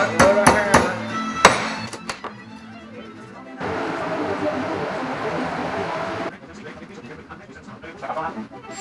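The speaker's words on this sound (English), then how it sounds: "Whack on it with a hammer." A hammer whacks a car part during a gauge install on an S13 240SX drift car, with a quick cluster of sharp, loud strikes at the start, followed by a voice talking and steady background noise.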